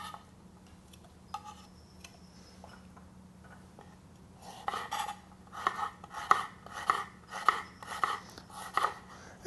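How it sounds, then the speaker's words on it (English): A knife slices radishes thin on a cutting board in a quick run of crisp, evenly spaced taps close by, after a quieter stretch of faint scraping and handling. "some radishes, we're just going to slice them thin"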